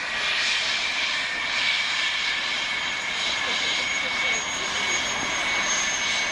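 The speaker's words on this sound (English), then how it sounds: "Very impressive model aircraft." Model jet aircraft flying at a Cold War jets open day at Bruntingthorpe, a continuous steady turbine whine and roar heard at a distance, even in loudness throughout, with a commentator's voice over it.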